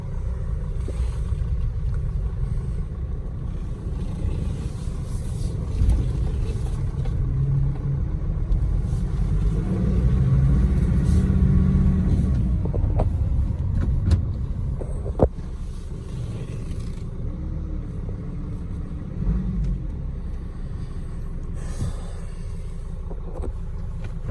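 A 2.7-litre Mercedes Sprinter 316 CDI van on the move, heard as a continuous low engine and road rumble with gentle swells as it gathers speed, close and steady, plus a few small interior knocks.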